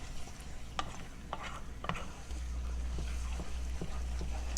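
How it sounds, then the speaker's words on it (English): Vegetables and salt being stirred in a pot for chicken pot pie, a steady soft scraping and stirring with a faint sizzle underneath, close and continuous with no talking. "So I'm going to go ahead on and get at a stir."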